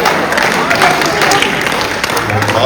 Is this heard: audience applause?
yes